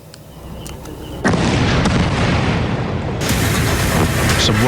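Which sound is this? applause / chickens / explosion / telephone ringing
explosion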